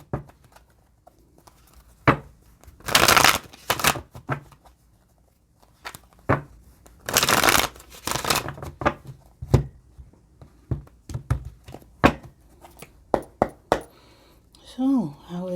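A tarot deck being shuffled: two long, dense riffling bursts stand out among scattered card taps and soft handling clicks, close and fairly quiet, with a faint voice near the end.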